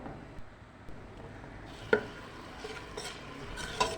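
Grated onion fries in a pot with soft, faint sizzling while a spoon scrapes and stirs, giving a few sharper clinks against the metal.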